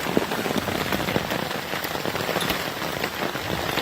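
Hail pelts a small camping awning at a lakeside state park campground during a storm, a dense, steady rattle of countless close impacts with no voices.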